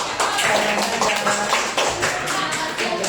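A classroom audience at a computational thinking lesson claps in a brief, moderately loud burst, with uneven pulses of hands and some tapping texture.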